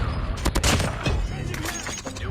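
Rapid gunfire from the mobile shooter game Call of Duty Mobile, a dense burst of shots with some sniper fire, loud and continuous over excited voices shouting in Thai.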